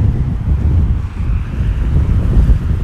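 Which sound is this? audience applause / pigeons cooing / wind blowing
wind blowing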